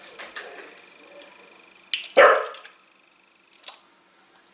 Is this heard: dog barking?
yes